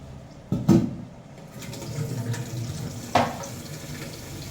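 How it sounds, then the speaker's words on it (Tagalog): Water splashes into a pot of shrimp and crab soup in two bursts, a short heavy pour and then another gush a few seconds later, with quieter trickling and kitchen clatter in between; nobody speaks. "lalagyan natin siya ng water"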